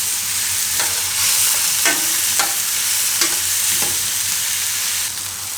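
Tomatoes cook down in a pan on a low flame with fresh coriander, a steady sizzle broken by a handful of spaced spatula scrapes and taps, close up.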